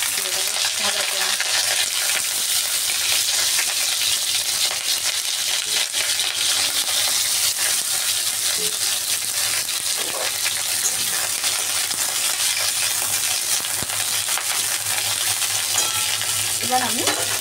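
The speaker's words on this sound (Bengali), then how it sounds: "আমি কড়াইতে তেল দিয়ে আলুগুলোকে ভেজে নিচ্ছি" Potatoes, then cauliflower florets, fry in oil in a wok with a steady, loud sizzle. Stirring scrapes and occasional clinks run through it, with no voices.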